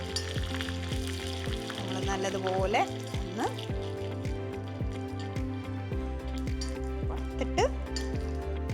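Four dried red chillies and curry leaves fry in a pan for rasam. A soft, steady sizzle sits beneath a person talking throughout.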